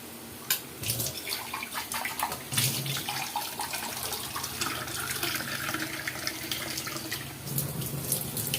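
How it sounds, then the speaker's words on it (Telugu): A glass of water poured into a masala mushroom curry in a pan, a steady splashing gush running for several seconds at close range with no talk. "ఇప్పుడు మనం దీంట్లోకి వాటర్ని అయితే యాడ్ చేసుకుందామండి."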